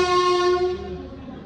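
An approaching train at a station sounds a steady, tonal horn blast that holds and then fades as it ends. No voices are heard.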